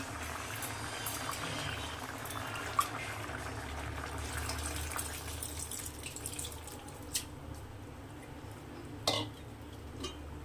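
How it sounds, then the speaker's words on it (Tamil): Tamarind water poured into simmering sambar in a home kitchen, a steady watery wash with soft stirring and a few small clinks and drips, alone with no talk. "கரைச்சி வச்சிருந்த புளியும் சேர்க்கும்போது இன்னும் கொஞ்சம் நம்மளுக்கு ஃபுல்லாகிடும்"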